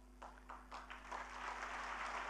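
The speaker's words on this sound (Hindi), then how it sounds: "तालियां कम बजी" Thin, subdued audience applause at an Indian poetry and award event, a few claps at first that thicken into a steady patter heard from a distance, with a low electrical hum underneath.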